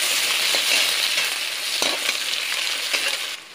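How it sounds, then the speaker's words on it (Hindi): Two medium onions, finely chopped, fry in hot oil in a dhaba-style paneer and potato dish, giving a steady, close sizzle with faint stirring scrapes and no talk. "इसी में आप 2 प्याज जो मीडियम साइज के थे उसको बिल्कुल बारीक इस तरह से काट कर उसको आपको तेल में डालना है"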